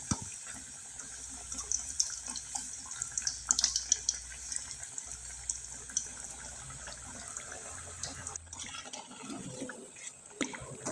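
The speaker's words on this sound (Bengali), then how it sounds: "আর এভাবে আমি নেড়ে চেড়ে একবারে মুচমুচে করে ভেজে নিব।" Dried homemade pitha cakes fry in hot oil, giving a steady, close, broadband sizzle and crackle that runs throughout, fading toward the end as they are stirred and turned.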